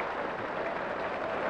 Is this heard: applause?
yes